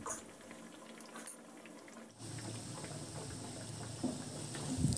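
Balushahi sweets fry gently in oil, a soft bubbling and fizzing that starts quiet, then grows fuller and steadier after a brief pause, heard up close with no voices.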